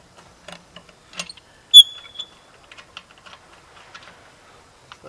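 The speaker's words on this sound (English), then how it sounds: "you want to remove the lug nuts in a crisscross pattern, crisscross type pattern" Lug nuts come off a car wheel during an emergency tire change: faint scattered metallic clicks and taps, then one sharp clink, followed by more light ratcheting ticks, with no speech.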